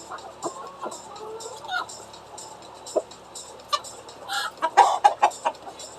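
Chickens cluck on a frozen winter farm at feeding time, several soft calls spread through the clip and growing busier toward the end, with some faint background noise.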